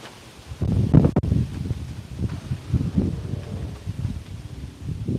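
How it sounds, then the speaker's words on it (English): Gusty wind buffets the microphone outdoors, low rumbling bursts rising and falling, with some rustling in the background. "Pretty windy out here today"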